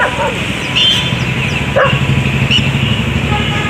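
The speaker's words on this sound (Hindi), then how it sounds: "ये कुत्ते भौंक रहे हैं।" Dogs bark outdoors at a short distance, a few scattered yips and woofs over a steady background hum with faint traffic noise.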